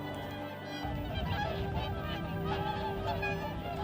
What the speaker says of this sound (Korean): 큰 고니는 가족 단위로 움직인다고 하는데요.